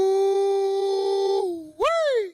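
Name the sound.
person howling imitating a dog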